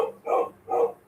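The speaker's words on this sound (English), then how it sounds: "I'm going to find out who the hell my dog's barking at" A dog barks twice in a slow, even rhythm, each bark a full, moderately loud burst with a short pause between, and no other voices.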